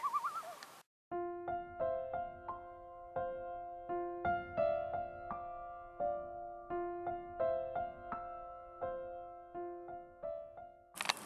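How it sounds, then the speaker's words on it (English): Layered bird calls ring out repeatedly against a quiet night background, steady tonal hoots and chatters overlapping for several seconds. "Birds are wild tonight."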